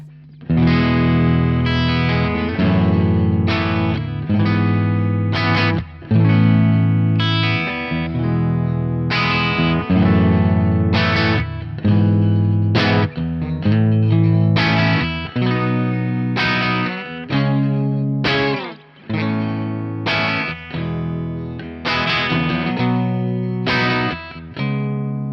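A Telecaster played through a Victory VC35 Copper valve amp with the bass cut engaged, giving a continuous, fairly loud run of strummed and picked chords with a slightly driven, chorus-like shimmer and no talk over it.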